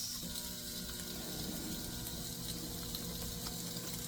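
Salmon sizzles on a grill pan with a steady, soft crackling hiss that continues unbroken throughout.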